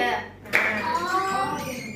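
Children in a classroom clap their hands once together, one sharp burst in the middle, followed by voices talking.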